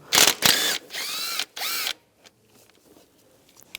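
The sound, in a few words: 10mm socket removing screw on VW Beetle speed sensor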